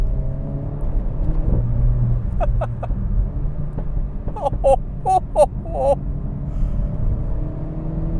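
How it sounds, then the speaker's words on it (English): A Renault Megane RS 300 in race mode drives with a steady low exhaust drone and a run of sharp rising bursts partway through, heard from inside the car without talk. "God, the exhaust can sound good, can't it?"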